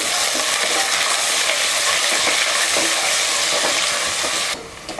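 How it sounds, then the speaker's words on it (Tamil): Sliced onions and green chillies sauté in hot oil in a pan with a loud, continuous crackling sizzle and stirring scrapes up close, which drops off abruptly near the end. "வெங்காயம் நல்லா வதக்கியாச்சு."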